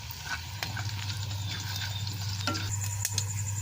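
Tadka of mustard seeds, round red chilies and white cumin sizzles and crackles steadily in hot oil, close and continuous with a few sharp pops and a low background hum.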